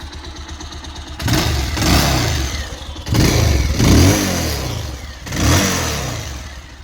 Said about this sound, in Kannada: ನಿಮಗೆ ಇದ್ರ ಇಂಜಿನ್ ಸೌಂಡು ಮತ್ತು ಸೈಲೆನ್ಸರ್ ಸೌಂಡು ಕೇಳಿಸ್ತೀನಿ